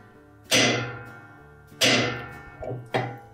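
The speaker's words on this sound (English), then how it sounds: "Prefer to use a short-handled hammer so that we don't damage the tub." Short-handled hammer striking the drive block of a Whirlpool washing machine, three sharp metallic taps spaced about a second apart, each with a brief ringing decay, close and clear with no talking.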